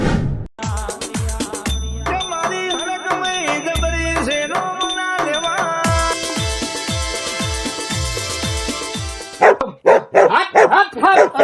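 A dog barks in a rapid series of sharp yelps over bright, bell-like music, the barks repeating for several seconds before a louder jumble at the end.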